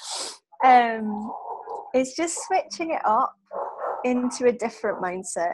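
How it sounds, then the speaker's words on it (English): A dog barks in short bursts in the background of an indoor interview, with someone talking continuously over it. "Sorry for the dog."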